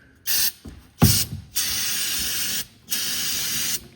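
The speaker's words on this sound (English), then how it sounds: "Grab a little brake clean." Brake cleaner hisses from an aerosol can in several short bursts, separated by brief clicks and pauses, close to the microphone.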